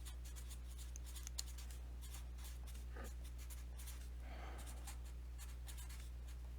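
A pen or pencil writes out the answer to a uniform motion math problem, with faint, soft scratching strokes over a steady low electrical hum.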